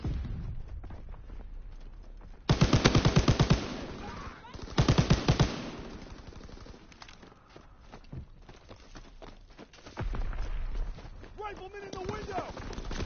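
Two sharp bursts of automatic gunfire from a Call of Duty WW2 multiplayer match, loud and close, with scattered footsteps and game voice callouts filling the gaps between them.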